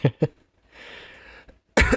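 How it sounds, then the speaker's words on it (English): Two short throat-clearing bursts, then a soft hiss and another brief rasp before a louder final clearing sound, all close to the microphone. "Let me just clear my throat"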